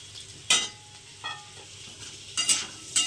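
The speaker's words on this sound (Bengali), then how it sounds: "তো বিটরুটগুলো এখন আমি এর সঙ্গে ভাজবো।" Beetroot with garlic fries in a pan, a steady low sizzle broken by several sharp scraping stirs of a spoon, close and clear.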